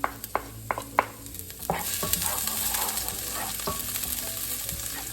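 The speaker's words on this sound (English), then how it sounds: "So let's start with our, again, sauteing our garlic." Garlic sautéing in oil for a chayote squash dish: a few sharp utensil clinks against the pan, then a steady, close sizzle with light stirring.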